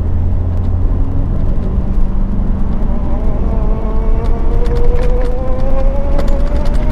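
A diesel Mitsubishi L200 pickup accelerating hard from a standstill toward 100 km/h, its steady engine drone climbing in pitch through the gears, heard loud and close from inside the cab with no talking.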